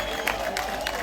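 Short burst of crowd applause and cheering at a nationalist protest rally in Manchester, a dense, steady wash of many hands clapping nearby.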